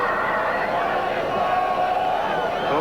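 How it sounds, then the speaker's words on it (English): Stadium crowd at Arrowhead in Kansas City roaring and cheering during an NFL game between the Chiefs and the Jets, a steady, distant wash of voices. "time to time we'd like to hear more crowd reaction. Here it is."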